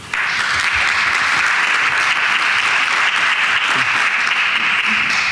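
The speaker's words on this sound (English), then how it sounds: "You deserve a round of applause for that." An audience at a city Board of Education meeting applauds. The clapping is dense and continuous, loud and steady for several seconds, with no speech over it.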